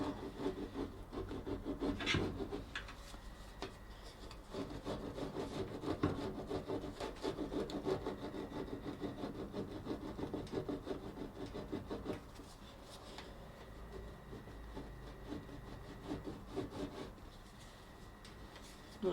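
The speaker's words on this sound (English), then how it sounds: "Now I gotta scrape this glue out before it dries hard." Glue is scraped out of a Whirlpool or Kenmore electric dryer door seal in quiet, steady rubbing strokes that continue with brief pauses.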